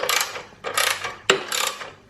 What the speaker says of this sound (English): Now we can go around and tighten everything up.